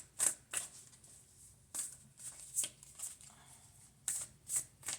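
Playing cards are shuffled in several quick riffling bursts, crisp and close, separated by short pauses in an otherwise quiet room.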